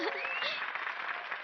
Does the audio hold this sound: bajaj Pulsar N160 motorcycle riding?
no